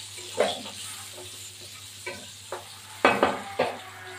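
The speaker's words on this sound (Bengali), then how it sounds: "আলুগুলো ভাজা হতে থাকুক, তারপরে ফিরে আসছি।" Potatoes fry in a pan with a low, steady sizzle, while a utensil scrapes and knocks against the pan in a few short bursts near the end.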